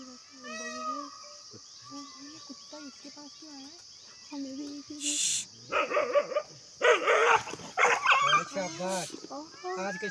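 A dog barks and yips sharply in a rapid series of close, loud outbursts while facing a tiger, preceded by a voice speaking over a faint steady insect-like hiss.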